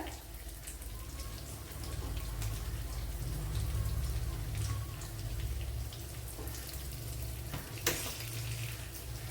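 Leftover oil from frying fish is poured into a pot for fish biryani and sizzles with a steady, hissing crackle over a low background hum, broken by one sharp clink.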